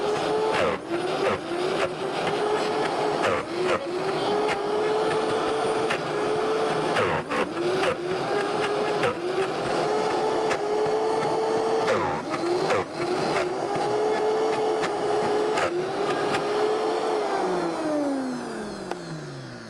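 Blender straining through vegan cheese ingredients, a loud continuous motor drone rising and dipping in pitch as the mixture catches and frees, with repeated clunks and a long spin-down at the end.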